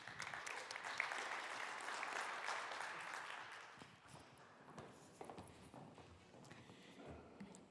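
A conference crowd at a Slovenian wood-industry event gives a faint, distant wash of applause that thins after a few seconds into scattered, softer claps.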